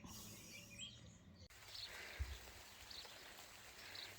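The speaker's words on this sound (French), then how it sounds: "Il pleut." A rain shower falls in a garden as a soft, steady patter throughout, fairly faint, with a few birds chirping in the background.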